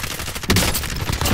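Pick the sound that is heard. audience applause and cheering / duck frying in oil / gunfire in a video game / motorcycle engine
gunfire in a video game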